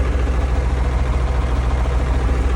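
A T-30 wheeled tractor's diesel engine idles steadily at close range, a constant low, rumbling drone with an even pulse and no speech over it.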